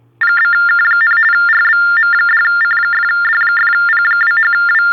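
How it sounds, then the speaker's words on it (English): A telephone-like electronic ring trills loudly and continuously in rapid repeating pulses, starting abruptly and persisting throughout, during a podcast recording. "What was that ringing noise?"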